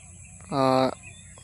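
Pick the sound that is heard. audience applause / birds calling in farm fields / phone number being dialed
birds calling in farm fields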